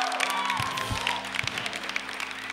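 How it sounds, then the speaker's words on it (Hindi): Studio audience applause at a comedy talk show, with scattered claps and light crowd noise, fairly faint and mixed with background sound. "बात बात पे तालियां बजा रहे हैं"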